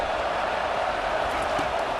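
Stadium crowd noise from the College Football 25 video game during a Michigan State vs Michigan matchup: a steady, moderately faint wash of roar with no clear peaks, continuous throughout.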